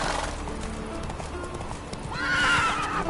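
A horse gallops with rapid, close hoofbeats in The Witcher 3 game, then gives a loud, drawn-out neigh near the end.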